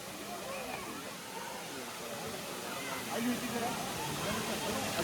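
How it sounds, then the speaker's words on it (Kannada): Jeri Falls in the Chikkamagaluru hills running low, a steady broad rush of falling water heard close, with people talking over it. "Jerry falls"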